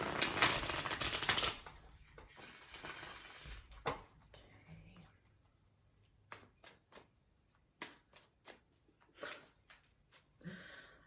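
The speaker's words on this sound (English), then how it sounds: "I'm going to pull you a Spirit Animal Oracle card to end the reading" A card is drawn from a Spirit Animal Oracle deck: a loud riffling shuffle of cards fills the first seconds, then quieter scattered taps and flicks of cards follow, with brief muffled sounds near the end.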